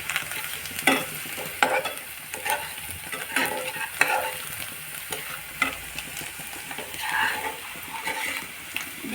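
Food fries in a pan while being stirred until it turns red, a soft continuous sizzle broken by repeated scraping strokes of a spoon against the metal, close by and steady.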